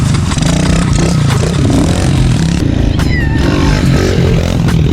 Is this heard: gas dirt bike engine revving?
yes